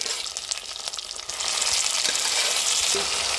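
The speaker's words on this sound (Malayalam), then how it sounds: "നന്നായി വഴറ്റിയെടുക്കാം." A boiled potato mix with drumstick leaves is sautéed in a hot pan for masala dosa, with close, loud, continuous sizzling and frying that swells after a moment, plus a few scraping stirs.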